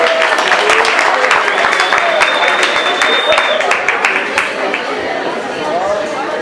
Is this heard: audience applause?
yes